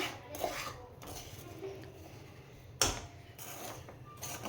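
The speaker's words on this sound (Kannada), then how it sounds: "ಈಗ ನಾನೆಲ್ಲ ಮಿಕ್ಸ್ ಮಾಡಿಕೊಂಡು ಈಗ ಉಂಡೆ ಮಾಡ್ಕೊಳ್ಳೋಣ" Roasted semolina for rava laddu is stirred in a pan, with a spoon scraping and clinking against the metal, including a sharp knock near the middle, under a soft continuous background.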